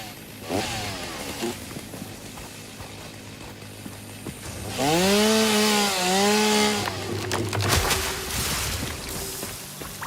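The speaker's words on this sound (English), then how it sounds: "Do I have chainsaw?" Chainsaw in the video game Satisfactory, a loud rising and falling engine whine lasting about two seconds amid mechanical clatter and ratcheting sounds.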